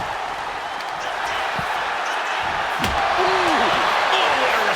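Strikes landing in a tag team wrestling match, sharp slams and thuds ringing out over steady arena crowd noise while a commentator talks.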